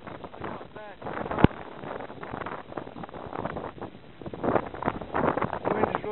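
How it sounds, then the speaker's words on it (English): Strong wind blowing during a storm chase, gusty buffeting rumble against the microphone that rises and falls, with voices talking through it. "The wind has really picked up."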